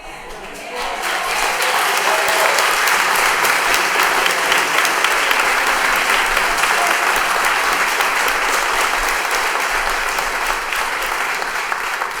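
Loud, dense applause fills a city council meeting chamber, a sustained roar of many hands clapping that swells quickly and holds steady for the whole stretch.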